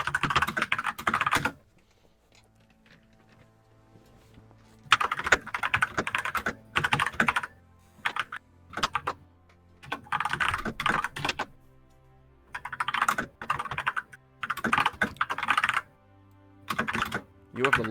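Loud computer keyboard typing clatters in dense bursts separated by quiet gaps, close and sharp throughout, heard during an online gaming chat.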